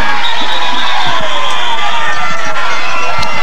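A crowd cheers loudly and steadily at a 1992 high school football game between Frontier and Woodsfield, a continuous roar of voices from the stands with scattered shouts and some talk mixed in.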